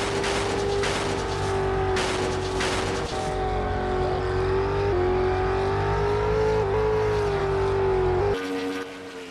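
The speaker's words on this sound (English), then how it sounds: "Fords have this engine sound." Ford stock car engine in a racing video game roars steadily and loudly, a sustained droning tone rising and falling slightly with throttle, joined by other cars for most of the run before dropping off near the end.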